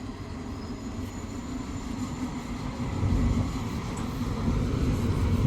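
A freight train rolls through Ban Pong railway station, a steady close rumble that swells louder partway through, with no voices.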